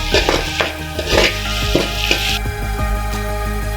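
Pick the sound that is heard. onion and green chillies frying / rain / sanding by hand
onion and green chillies frying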